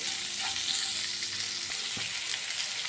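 Vegetables for ragi upma fry in a pan, a short, even sizzle with a couple of faint stirring knocks.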